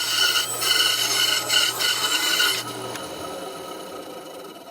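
A bandsaw cuts a triangular wooden jig piece for a sharpening jig, a close, steady rasping and rubbing that runs for a few seconds and then eases off as the cut finishes.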